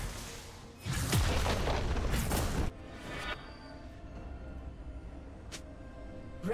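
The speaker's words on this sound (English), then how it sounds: "Your team's turret has been destroyed." A turret destroyed in the League of Legends video game erupts in a loud, booming explosion lasting under two seconds, followed by a lower rumbling tail and a few faint clicks.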